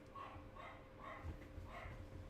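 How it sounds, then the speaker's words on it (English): Dog barking in repeated yips and bow-wows, about four or five sharp barks spaced roughly half a second apart, at moderate distance and fairly quiet, with no talk over them. "Joan, stop barking"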